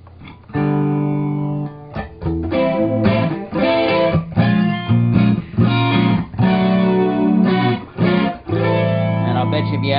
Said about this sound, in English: That's an analog flanger.